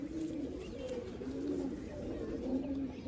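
A seven-year-old black-headed pigeon coos in low, steady, repeated calls close by, with faint background noise and no talk.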